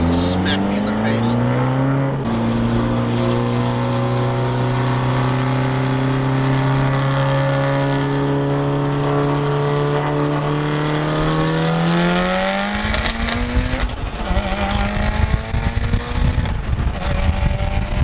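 A 600hp Mitsubishi Evo X engine held against a two-step launch limiter, a loud steady stuttering rev that climbs in pitch midway, then breaks into rougher crackling near the end, heard up close with no talk.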